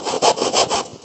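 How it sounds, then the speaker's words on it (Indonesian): A hand saw cuts wood for a carved Barong mask in quick, rhythmic back-and-forth strokes, about five close, loud rasping pulses with no voices. "Baru kita gergaji lagi sini teman-teman."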